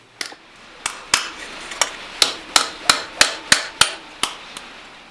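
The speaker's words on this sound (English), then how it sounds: "I can easily shape these folds by just hammering off the edge of the stake" Sharp metallic hammer blows ring out one after another as sheet metal folds are shaped over the edge of a stake while forging a small lamp pan, a dozen or so strikes in an uneven but steady rhythm.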